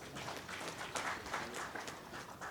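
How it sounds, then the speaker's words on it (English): Audience applause at a business conference on the African economy, a steady dense patter of many hands clapping at moderate distance, fairly even throughout with no voices over it. "Please give him another round of applause"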